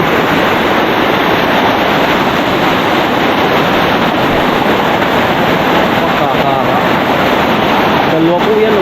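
Rushing water where two rivers branch, a steady broadband wash that stays loud and unbroken throughout, with voices talking over it and occasional wind buffeting.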